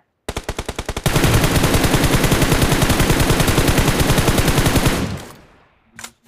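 Automatic gunfire in the mobile battle royale Battlegrounds Mobile India starts with a short burst of distinct shots, then a long, loud, rapid stream of fire. It cuts off and fades, followed by a single faint shot.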